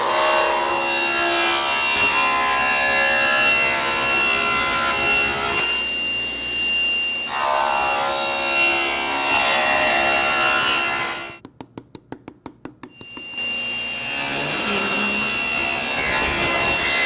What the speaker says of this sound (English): I've got to make 4 bevel cuts now, bevel rips, to bring the Cove molding to final shape.